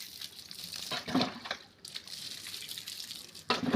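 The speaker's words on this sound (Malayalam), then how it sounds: "ഇനി നമുക്ക് ഇതിലോട്ട് വെള്ളം തളിച്ചു കൊടുക്കാം" Water is sprinkled in short splashing bursts onto potting soil mixed with cow dung powder and organic manure, with uneven patters and pauses between pours.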